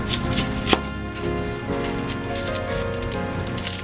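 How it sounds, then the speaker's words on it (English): A knife chops a Spanish onion on a cutting board, giving a steady run of close, dense thuds with one sharper knock early on. "I'm just going to slice it this way and then go the other way until we have our onion all cut up"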